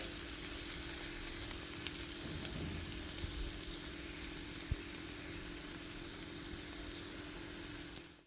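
Spicy beef fry with coriander leaves sizzles steadily in a hot pan, a dense, even hiss with a faint low hum underneath and an occasional soft stir, close and continuous.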